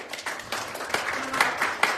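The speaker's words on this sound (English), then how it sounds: "Little round of applause." A small round of applause at a council meeting, scattered hand claps from a modest group, fairly faint and uneven, with a little talk mixed in.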